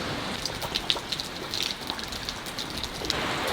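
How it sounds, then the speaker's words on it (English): Rain falls steadily on a farm in Fermanagh, a soft continuous hiss with scattered nearby drips tapping on surfaces. "We've waited quite some time and it's still raining."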